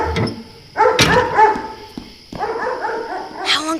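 A small puppy left home alone barks and yips in short, close bursts, several sharp barks in two clusters with brief pauses between, loud and clear without speech.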